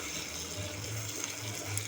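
Water pours steadily into a pot for a plant, making a continuous soft gush and trickle at close range with no talk over it.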